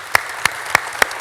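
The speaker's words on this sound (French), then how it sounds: "Belle main d'applaudissements pour Véronique Côté et Frédéric Boudreau." At a cabaret show, an audience applauds with four loud, evenly spaced claps standing out over a softer background patter of hands.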